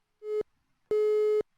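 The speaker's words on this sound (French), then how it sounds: "Si on pouvait enlever la sonnerie, avis à la régie." A telephone busy tone intrudes on a live radio call-in broadcast, two loud clean electronic beeps, one short and then one longer, separated by a brief silence.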